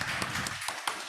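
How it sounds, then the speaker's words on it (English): Audience applause at a Scrum Fest Niigata 2023 conference talk: a steady wash of many hands clapping throughout, with a few sharper individual claps standing out. "Everyone, give her a clap."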